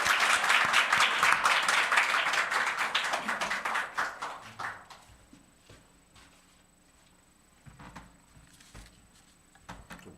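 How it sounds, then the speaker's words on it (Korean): Church youth gathering audience gives a burst of close, dense applause that tapers off after about four seconds into scattered faint claps and quiet room sounds. "우리 응원의 박수 한번 쳐주십니다"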